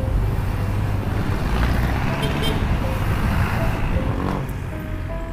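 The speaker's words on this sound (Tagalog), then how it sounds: "Sobrang traffic pa." Dense road traffic around a rider on a Honda Click 125 scooter, a constant heavy rumble of cars, buses and trucks with occasional horn toots, close and loud, while someone talks over it.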